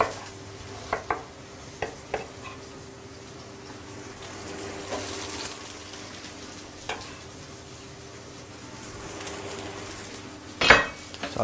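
Onion frying in a hot pan being stirred, with a soft steady sizzle under scattered clinks and scrapes of a utensil against the pan, and a sharper clatter near the end.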